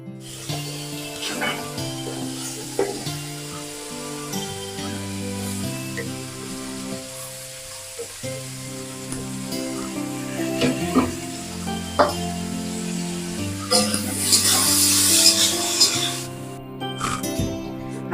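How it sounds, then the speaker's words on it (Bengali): Steady sizzle of potatoes frying in a wok under background music, with occasional stirring clatter and a louder hissing burst toward the end. "এবার আলুটা ভেজে নেবো"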